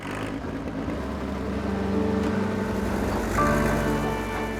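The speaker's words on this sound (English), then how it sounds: "It's a vintage TD-18, a huge tractor with lever steering and tracks like a tank" A vintage TD-18 tracked tractor with lever steering runs close by, its engine a steady low rumble that swells slightly and then rises further near the end, with no talk.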